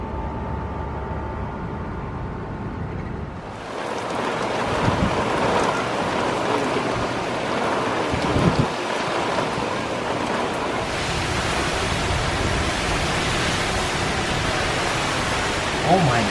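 Storm wind blowing hard outdoors, a steady, loud broadband roar that swells in after a few seconds of quieter indoor sound and then keeps rushing with gusty surges throughout.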